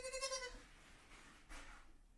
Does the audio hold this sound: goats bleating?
yes